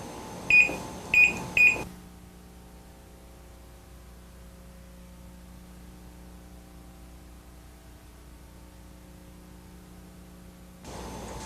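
Three quick, evenly spaced electronic beeps sound close by as microwave oven timer buttons are pressed, followed by a long stretch of soft steady hum.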